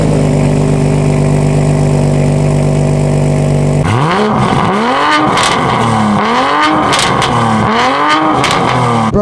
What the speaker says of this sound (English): start the car and we're gonna hear what it sounds like. By the way, this is straight pipe